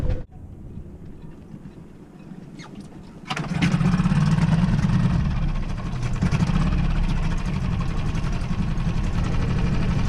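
A quiet rumble gives way to a sailboat engine cranking and catching, then settling into a loud, steady running drone that continues to the end.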